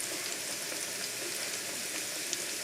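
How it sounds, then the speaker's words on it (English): Chicken wings frying in a shallow pan, a steady close hiss and crackle of hot oil that holds even throughout, with no talking. "I'm gonna fry this for 10 minutes"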